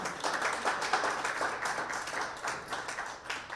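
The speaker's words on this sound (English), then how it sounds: "please give a huge round of applause to Ms. Nada" A conference crowd at a media innovation summit claps for a woman introduced on stage, a dense, fairly steady round of applause heard at moderate distance with no voices over it.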